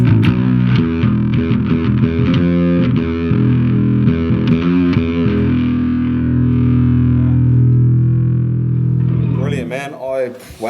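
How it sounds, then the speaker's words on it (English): A bass through a B3K overdrive pedal plays gritty, grinding, metal-style notes, loud and sustained, ending with a short burst of other sound. "you've got the B3K, which is more of sort of that grindy sound"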